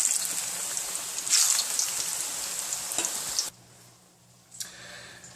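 Plantains frying in hot oil in a pan give a steady, fairly loud crackling sizzle that falls away sharply partway through, leaving a quieter hiss with a faint pop or two.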